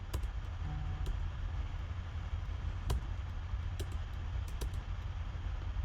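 Computer keyboard keys are pressed in scattered, crisp clicks with irregular gaps between them, quiet and close against a low background hum.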